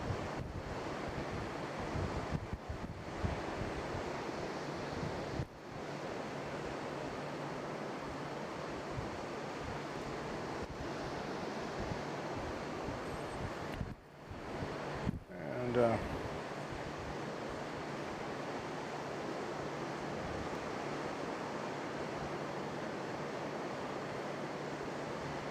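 Waves wash steadily onto a beach at night, a continuous broadband surf roar with gusts of wind buffeting the microphone and a brief dip midway.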